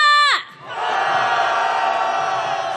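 Massed voices at a candlelight street march heading to Gwanghwamun let out a long, loud rallying roar, one continuous crowd shout that holds steady after a brief opening call.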